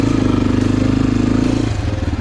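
Close and loud, an Asian Beast Hyper X 250 motorcycle revs with a fast throbbing exhaust pulse, holding steady before dipping and rising again near the end.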